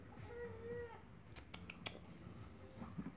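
A faint cat meow near the start, soft and brief, followed by low rustling and scattered small clicks.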